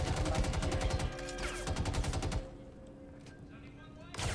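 Rapid bursts of a Volt shotgun firing in Star Citizen played in VR, a fast rhythmic string of close shots for over two seconds, then quieter ambience and one last shot at the end.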